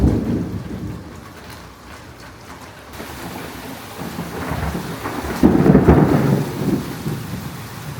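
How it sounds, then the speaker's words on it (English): An afternoon thunderstorm outdoors in Florida, with steady rain hissing throughout and low rolling thunder rumbling beneath it, the rumble swelling into a louder, closer roll toward the end before easing slightly; no voices. "The storms are back."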